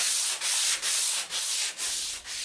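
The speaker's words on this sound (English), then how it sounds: "Back to the sanding." Hand sanding on a boat being restored: a brisk, rhythmic series of about six scraping strokes, each a short hissing rasp with brief pauses between, close and clear with no talk.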